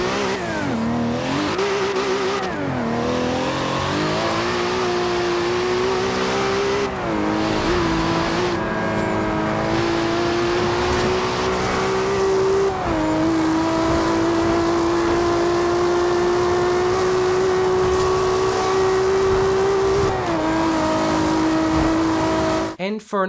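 An aggressive car engine from the racing game Forza Horizon 2 revs loudly and continuously, its pitch rising and falling through gear shifts, with no pauses from start to end.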